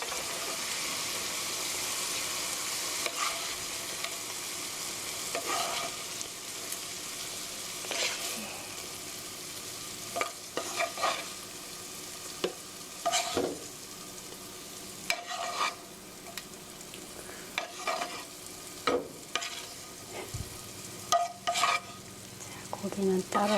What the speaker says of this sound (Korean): 국물이 없어질 때까지 5분 정도 이렇게 볶았습니다.